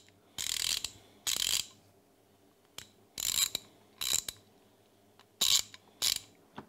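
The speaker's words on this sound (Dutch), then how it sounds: "Grote ratelok." A large Kraftwerk ratchet wrench is cranked in short bursts of rapid metallic clicking, about six bursts with pauses between, close and clear with no voices.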